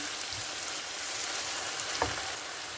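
Okra and onion fry in a pan with a steady, even sizzle and crackle, close and constant, with a brief stir or clink partway through and no voices.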